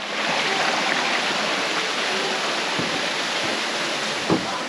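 A waterfall roars in a steady, dense broadband rush, close and continuous with no voices over it, only a faint thump near the end.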